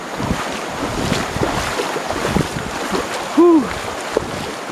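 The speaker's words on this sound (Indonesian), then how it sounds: "kita akan melewati arus deras seperti yang akan kita lihat ini" A boat crosses river rapids, its steady motor drone blending with rushing water and wind buffeting the microphone throughout, with a brief rise in noise partway through.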